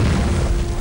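A loud, close explosion in the video game Peanut Butter Disaster: one dense booming blast that fills the whole moment, with no voices.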